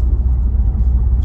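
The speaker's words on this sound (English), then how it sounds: "twin turbo V6" A Cadillac ATS-V's twin-turbo V6 gives a loud, close, low engine rumble, steady and unbroken across a short moment.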